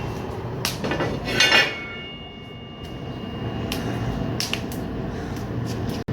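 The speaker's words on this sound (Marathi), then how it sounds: "आता तवा ठेवतो बघा भाकरी भाजायला" A metal tawa griddle is set on an electronic stove for roasting bhakri: several clanks and scrapes of metal on metal ring out over a steady background hum.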